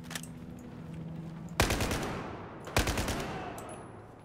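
Gunfire in Battlefield 4 comes in two loud, sharp bursts of rapid shots, each followed by a short decaying tail.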